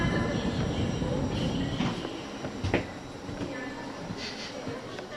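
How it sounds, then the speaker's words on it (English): Steady rumble and rattle of a moving train carriage heading to the airport, with a few sharper clanks partway through and a low, constant roar. "So James, we're on the train on the way to the airport."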